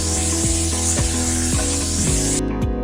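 A brush scrubbing the removed milk frother nozzle of a Zachvo CM9002I-GS coffee machine, with repeated short rubbing strokes over a steady machine-like hiss, close and fairly loud, ending abruptly near the end.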